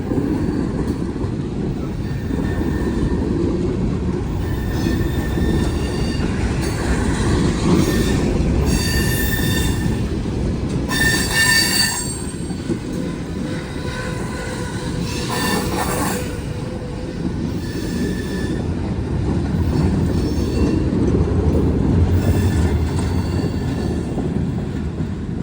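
A Norfolk Southern freight train with boxcars and a rear gondola rolls steadily past on a hill in Kentucky, a loud continuous rumble of wagons with high metallic wheel squeals rising and fading throughout.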